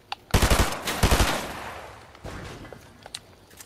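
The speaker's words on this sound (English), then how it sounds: "I heard gunfire." Rapid automatic gunfire in Fortnite, two loud close bursts of shots followed by a trailing volley and a few scattered fainter pops, with no talking.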